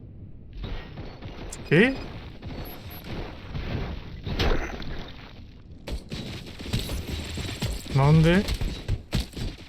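Gunfire in the video game Robocop: Rogue City comes in loud bursts and booms, mixed with mechanical clatter, while a person speaks briefly over it.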